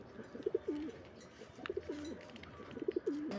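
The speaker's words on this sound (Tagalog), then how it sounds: "Masyadong malikot yung ating kalapate." A pet pigeon coos close by in three soft, rolling phrases, each separated by a brief pause, over faint background noise.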